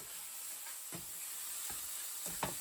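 Vegetables sizzling in a pan over lowered heat for steak sandwiches, a steady hiss of frying with a few soft stirring knocks, close and continuous with no talk.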